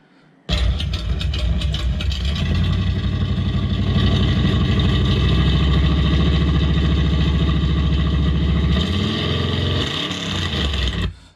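A car engine revving plays back from a recording, a loud distorted steady roar with rising and falling pitch, compressed and harsh, cutting in abruptly and ending just as suddenly.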